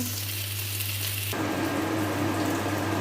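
Rohu fish pieces frying in a pan, heard as a loud, steady sizzle and hiss throughout, growing suddenly brighter and harsher partway through.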